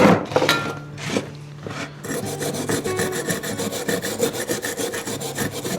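Steady rasping scrubs on a rusty part of a Trek Navigator 200 bicycle being cleaned, a few separate strokes at first, then a rapid continuous rubbing rhythm close up with no talk.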